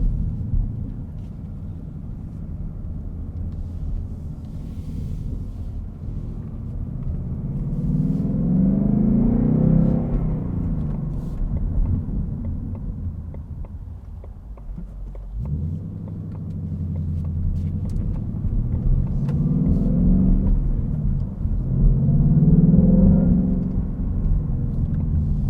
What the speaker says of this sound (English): This 5-liter V8, it's so sonorous.